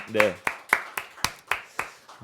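Hands clap in a church congregation during a Children's Sunday service, sounding as a steady series of about seven sharp claps with a voice briefly at the start.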